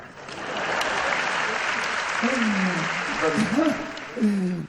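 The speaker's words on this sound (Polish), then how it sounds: "Tak, tutaj sobie wpisałem brawa." Hall audience at a 20th-jubilee gala of convivial folk songs in Poznań's Sala Ziemi applauds steadily, a broad crowd of clapping that swells and holds, with voices speaking over it toward the end.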